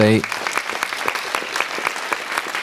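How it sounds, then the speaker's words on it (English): Crisp round of applause from an audience in a city council chamber during a ceremonial meeting, steady and fairly close, following a brief voice at the start. "if we could just get one more round of applause for them, for their efforts"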